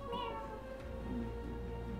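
A pet cat meows indoors in a drawn-out, wavering call close to the microphone, heard over soft background music with no talk.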